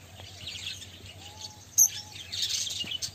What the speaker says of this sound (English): They're all different kind of birds.